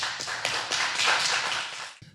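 An audience at a live startup pitch event in New York gives a short burst of fairly distant applause, about two seconds of scattered clapping.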